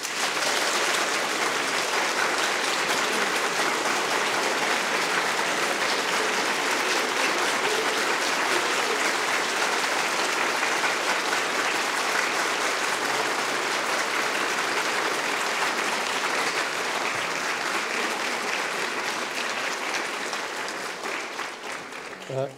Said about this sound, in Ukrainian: Дякую за ці бурхливі аплодисменти і прошу сідати.